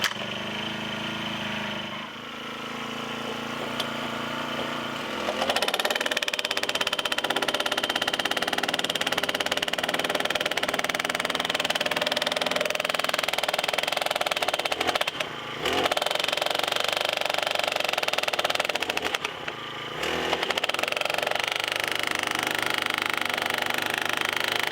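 An engine-powered driver pounds pipe into the ground for a greenhouse frame, a loud continuous mechanical drone with rapid rattling that starts after a quieter idle and cuts out briefly twice.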